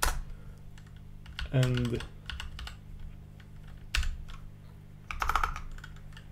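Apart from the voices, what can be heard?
typing a password on a computer keyboard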